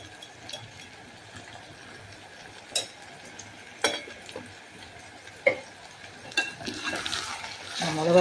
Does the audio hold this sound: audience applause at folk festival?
no